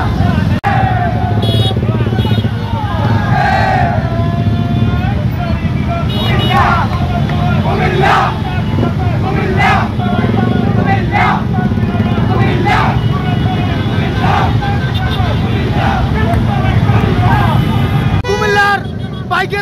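A large crowd of motorcycle riders gathered on the Comilla highway in front of the Nurjahan hotel, a dense continuous roar of idling bikes and traffic with repeated horn toots and crowd chatter throughout, loud and close.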